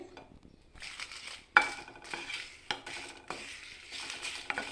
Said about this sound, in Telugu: ఆయిల్ వేడెక్కిన తర్వాత ఒక పది వరకు ఎండుమిర్చిని ఆయిల్లో కాస్త ఫ్రై చేసుకోవాలి